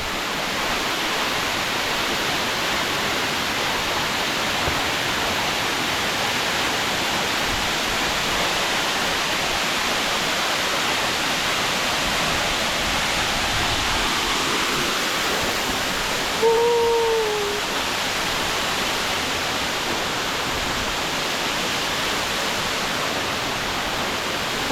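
A waterfall at Ranong in Thailand pours down in a constant, dense roar that stays loud and steady throughout, with a brief faint tonal chirp partway through.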